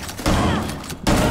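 Loud, close bursts of gunfire in Rainbow Six Siege, with a dense volley, a short gap, then another burst.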